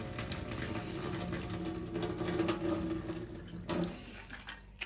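Cold tap water runs quietly and steadily into a sink while chickpeas are rinsed, with a soft continuous splashing and faint clinks near the end.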